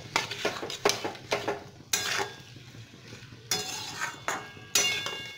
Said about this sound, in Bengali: মশলার সাথে আলুটাকে ভালো মতো মিশিয়ে নেব